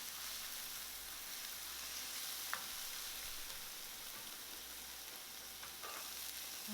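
Celery frying in a pan for vegan broccoli slaw fried rice, a steady, even hiss of sizzling oil throughout with a couple of faint clicks, moderately close and without speech.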